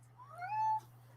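A house cat gives a single drawn-out meow, close and clear, rising then holding before stopping, over a steady low electrical hum.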